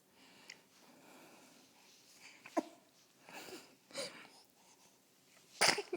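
A baby sneezes once, a sharp burst near the end following faint snuffly breathing and small sounds.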